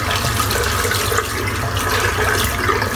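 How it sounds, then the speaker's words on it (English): Running tap water splashes steadily over a shaving brush being rinsed out after a head shave, a continuous close broadband rush with no talking. "I'm going to rinse the brush out."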